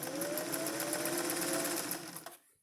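A sewing machine runs steadily, stitching slippery poly silk fabric for a vest, its fast whirring needle rhythm close and continuous before it slows and stops near the end.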